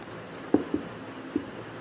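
Numbers being written by hand during a maths lesson: a brief, quiet scratch of pen or chalk strokes with three soft taps, close and alone.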